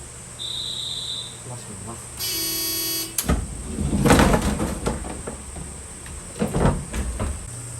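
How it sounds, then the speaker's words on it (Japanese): Cable car doors on an old Showa-era car at Yakuri Tozanguchi station close before departure: a steady electronic warning tone, then a sliding rumble and a thud, followed by further clattering knocks. "扉が閉まります。"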